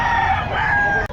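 An Albany gamefowl rooster crows loudly and close by in one brief, sustained call, with no talk.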